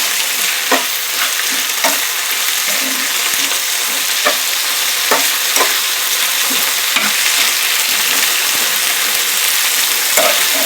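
Drumstick leaves and onion being sautéed over a high flame, giving a loud, dense, continuous sizzle with scattered clicks and scrapes as they are stirred, close up and without speech.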